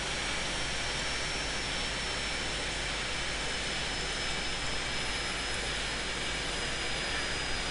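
A cargo plane's jet engine in Airport Simulator 2014 makes a steady, loud broadband roar with a faint high whine, holding constant throughout with no voices.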